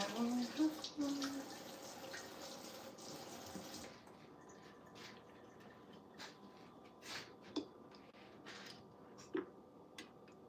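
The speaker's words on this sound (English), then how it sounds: "Let me rinse." Running water rinses for a few seconds at night in a home kitchen, then it stops, leaving quiet room tone with a few small clicks and knocks.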